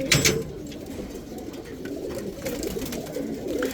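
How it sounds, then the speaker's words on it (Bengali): Pigeons coo softly and continuously nearby at a pigeon loft, a low murmuring bubble with a few faint chirps and rustles around them. "এই যে একটা কবুতর দেখেন"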